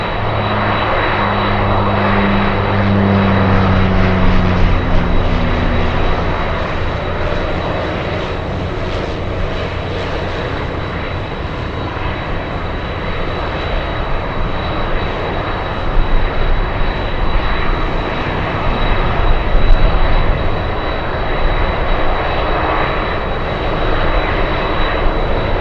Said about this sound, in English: That's a C-45, a Beech C-45.